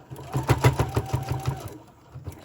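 A sewing machine stitching through a fabric mask, a close rapid burst of mechanical chattering stitches for about a second and a half, then a couple of lighter clicks.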